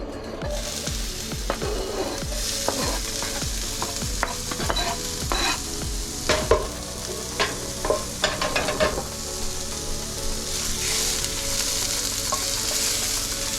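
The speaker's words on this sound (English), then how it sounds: "kind of get our onions translucent and get a little bit of the heat out of the jalapenos" Onions and jalapenos sizzle in a hot cast iron pan, a steady close hiss broken by repeated scraping stirs that soften toward the end.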